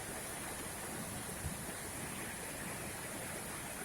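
Heavy rain pours down in a dense, steady roar of broadband noise, even and unbroken from start to finish, heard alone and at moderate distance without talk.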